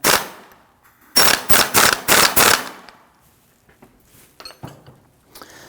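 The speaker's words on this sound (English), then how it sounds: "make sure it's good and tight with your impact gun" A pneumatic impact gun tightens a strut nut on a 2001-2009 Volvo S60 in a loud burst of about five rapid hammering rattles, preceded by a single short blast, followed by quieter clinks and handling noises.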